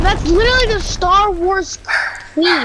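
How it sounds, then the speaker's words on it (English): A dog gives a few high, whiny yips and barks in quick bursts, close and loud, mixed with a person talking at the same time. "that's my dog"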